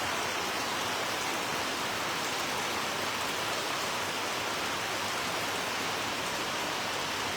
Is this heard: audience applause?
no